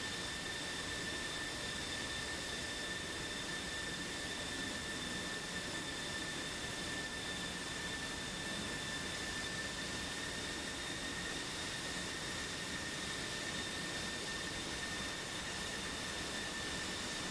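Continuous jet engine whine with a steady high-pitched tone over broadband roar as fighter aircraft taxi toward the primary runway at Tbilisi in a flight simulator game, even and unchanging, at moderate level with no voices.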